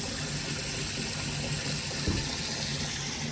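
Water pours steadily into a sump tub meant to sit under a 150-gallon aquarium, a constant close gushing rush that holds through the whole stretch with no talk.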